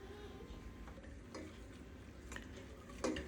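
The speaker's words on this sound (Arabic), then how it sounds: "رح نحركهم مع بعض على نار هادية لمدة دقيقتين تقريبا" Flour and oil are stirred together in a pot over low heat, producing faint, soft spoon scrapes and light clinks at a few scattered moments over a quiet kitchen background.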